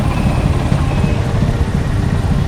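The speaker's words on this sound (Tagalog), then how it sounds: "So, sakay na kami guys sa no, blue na tricycle ulit." A motorized blue tricycle ride in General Santos City, with a loud, steady engine drone and road rumble close up that holds unbroken from start to finish.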